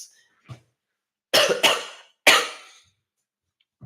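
Three sharp, harsh coughs close by, two quick ones then a third after a short pause, with silence around them.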